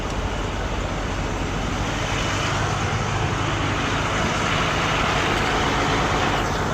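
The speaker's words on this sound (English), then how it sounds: "Park next to DMT, they got the truck running." Truck engine idling nearby in a parking area, a steady loud broadband drone and rumble that holds unchanged throughout with no other distinct events.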